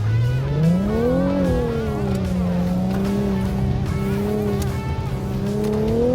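A 2016 Infiniti Q50 Red Sport 400 running a slalom course: a loud, steady engine drone that rises and swings in pitch as the car accelerates and weaves, heard close and continuous for the whole stretch.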